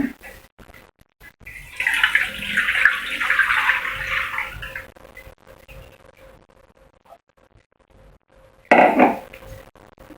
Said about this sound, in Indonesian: setelah itu kita masukin santan ya bun. Kita masukin ke wajan.